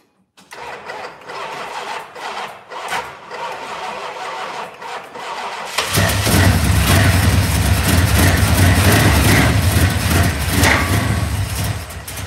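A Plymouth Satellite's engine cranks for several seconds with faltering bursts, then catches and roars into a loud, steady run, heard close up without talk.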